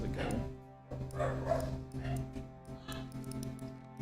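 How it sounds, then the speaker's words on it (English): A dog barks at a bird, a series of muffled barks repeating every second or so, moderately distant, over a low steady hum. "Dog's barking at a bird"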